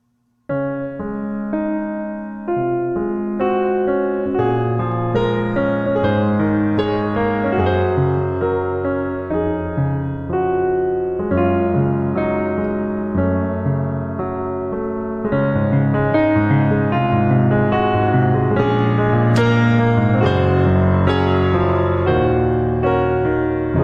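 Piano running up and down scales over a flowing accompaniment of chords and bass notes, full and continuous, growing a little brighter toward the end.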